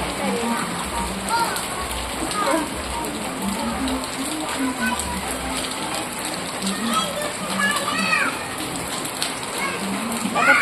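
Rain falls steadily on surfaces outdoors with children around, a dense continuous hiss and patter with voices talking faintly underneath.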